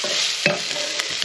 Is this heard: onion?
yes